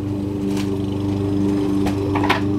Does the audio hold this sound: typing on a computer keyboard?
no